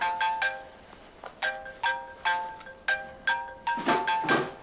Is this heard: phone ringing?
yes